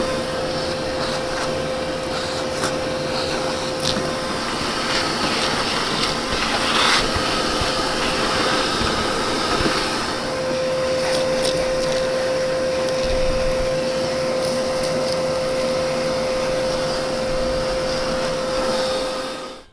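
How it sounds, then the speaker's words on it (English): A vacuum cleaner with an extension hose runs continuously and loudly inside a car engine bay, a steady whine and hiss with small rattles as debris is sucked up, cutting off at the end. "We got it vacuumed."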